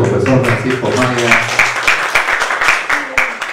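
A lecture audience claps for a professor after his talk on generational behaviour of young people in Peru. A voice speaks first, then steady, close-sounding applause swells and continues to the end.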